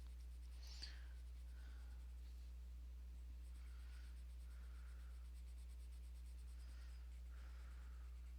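A colourless blender pencil rubbing over coloured pencil on paper to smooth the glass of a drawn potion bottle, soft, steady scratchy strokes close up and faint over a constant low hum.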